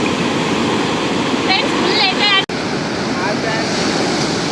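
A loud, continuous roar of ocean surf breaking on a Vizag beach washes through the whole stretch, with brief faint voices buried beneath it.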